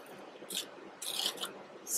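Texture paste being scraped off a stencil, three short, close, rasping strokes separated by brief pauses, fairly quiet and with no talking.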